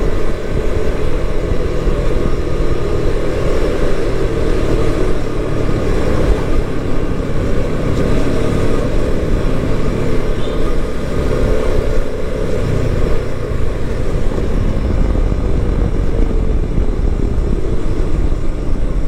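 A Suzuki V-Strom 250SX motorcycle runs at high speed, its engine drone blending with heavy, steady wind rush that stays loud and unbroken throughout, with no voices.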